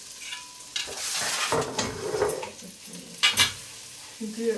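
Tomato paste and red pepper flakes fry in butter, a close sizzle broken by stirring scrapes and utensil knocks, while a person speaks briefly.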